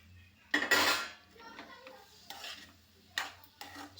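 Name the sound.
adding paneer, peas and cauliflower into gravy in pan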